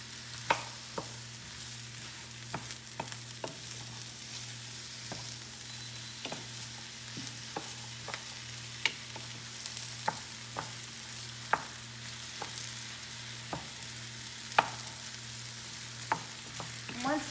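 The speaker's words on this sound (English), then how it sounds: "Stir it all in." Mushroom and pea risotto stirred in a pan, with faint steady sizzling under repeated sharp spoon taps and scrapes at an uneven rhythm, heard quietly up close with a low background hum.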